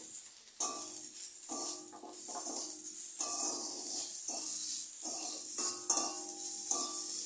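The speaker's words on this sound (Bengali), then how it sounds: "এটা একটু কষিয়ে নিতে হবে কাঁচা গন্ধটা যাতে না লাগে সেইভাবে একটুখানি কষিয়ে নিতে হবে একটু নেড়ে চেড়ে" Chicken filling with salt, turmeric and cumin powder sautéing in a pan, a soft hissing sizzle broken by repeated stirring strokes in short bursts, close and fairly quiet, no voices.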